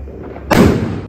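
A single firecracker bursts during Diwali celebrations at home, one loud sharp bang that follows a low background rumble and decays over about half a second.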